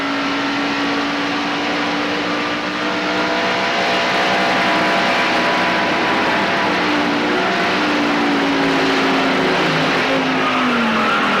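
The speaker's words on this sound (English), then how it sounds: "We've never had this big of a crash. There must be 6 or 7 cars." Stock cars roar through a multi-car crash during a 1994 NASCAR Coca-Cola 600 race at Charlotte Motor Speedway. Engines drone steadily under long, wavering tire squeals and skids that carry on for over ten seconds, with no talk.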